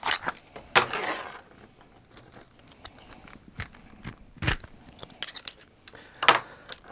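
Snips and plastic clicks from cutting a small zip tie off a scuba hose fitted with a bolt snap, several sharp close cuts scattered through a quiet room with faint handling noise.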